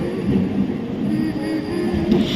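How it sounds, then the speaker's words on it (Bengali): A train pulls into a station platform with a steady, loud low rumble and rolling hiss that holds for a couple of seconds, near and continuous. "ট্রেনটা তো চলেই এসেছে"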